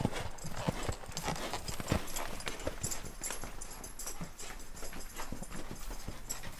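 Hooves of a horse clip-clop in a steady walking rhythm during a riding lesson on a ranch, close and fairly clear, with no talking over them.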